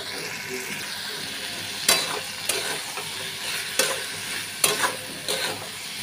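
Ghee and garam masala frying in a pan for mochar ghonto, a steady close sizzle with several sharp stirring scrapes breaking through at intervals, no voices.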